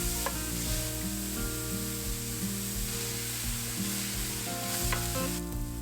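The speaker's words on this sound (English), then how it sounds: "Then we're gonna start a stainless steel pan over medium heat and cook these in just a little bit of olive oil." Peppers sautéing in a little olive oil in a stainless steel pan over medium heat, a loud close steady sizzle with light stirring scrapes and an occasional clink.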